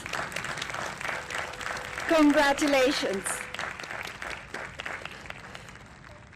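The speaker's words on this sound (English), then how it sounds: "Let's give our graduates an applause" Applause from a commencement audience for graduating health and education students, a continuous patter of clapping with a brief congratulatory voice and a short burst of music or cheering in the middle.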